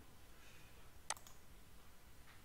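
A single soft computer mouse click sounds in an otherwise quiet room, brief and close.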